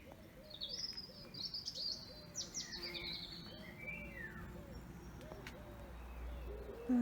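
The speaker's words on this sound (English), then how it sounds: "Birds are singing their hearts out." Birds call in a shady Cambridgeshire garden at midday: repeated soft hooting coos carry a low rhythm while brighter chirps and trilling phrases rise above, fairly close and clear against a quiet background.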